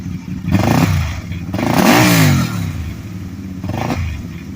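A 2010 CanAm Spyder RS 990 three-wheeler with a rowdy exhaust revs in three throttle blips, the middle one longest, a rising then falling engine note over steady idle rumble.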